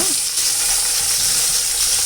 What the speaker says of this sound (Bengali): এখন নুন হলুদ মেখে আস্তে করে ভেজে নেব